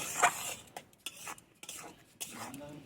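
Spoon scraping and stirring grated coconut in a pan while making Bengali-style moong puli, with clattering metal knocks and faint frying hiss, close and fairly quiet.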